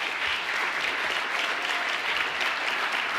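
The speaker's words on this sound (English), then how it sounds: "we'd like to give a round of applause to all of our community partners" A crowd at a high school Senior Salute 2026 event applauds community partners with a thick, continuous wash of clapping that stays loud and even throughout.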